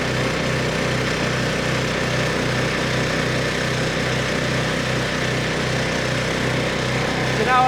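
A Weibang Velocity 68 tracked flail mower engine runs steadily at close range with a continuous, even drone and a faint regular pulsing throb. It stays unbroken throughout with no pauses, and there is no clear talk over it.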